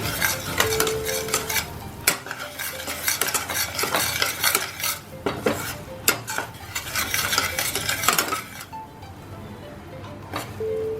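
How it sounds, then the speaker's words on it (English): All-purpose flour is stirred and roasted in a pan over a low flame, with repeated scraping strokes of a spoon against the pan and a light sizzle, up close and without talk. "You add very little flour. You can add all-purpose flour, a very little of it. And start roasting it."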